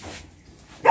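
A dog gives a single sharp, loud bark near the end. Before it comes a quieter, muffled stretch.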